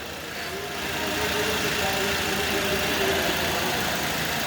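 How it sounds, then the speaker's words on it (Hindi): A Toyota Corolla with a crank-but-no-start fault idles steadily after starting, a low continuous engine hum that swells slightly after the first second and holds at moderate loudness. "ये गाड़ी स्टार्ट है"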